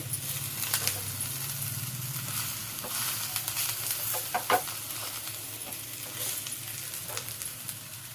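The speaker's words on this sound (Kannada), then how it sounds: "ಈಗ ಈ ತುರಿನ ನೀಟಾಗಿ ಕಲಿಸ್ಕೊಳ್ಳಿ." Grated raw banana being stirred in a pan, a continuous light sizzle with scattered scraping and tapping from the spoon, close up, steady and moderate in level.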